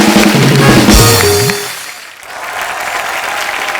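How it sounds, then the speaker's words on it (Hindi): A studio audience at a comedy talk show breaks into loud applause, dense and close at first, then fading quickly into a softer room murmur, with music tones layered over the opening. "ये दोनों बच्चों के लिए जोरदार तालियां हो जाएं एक बार।"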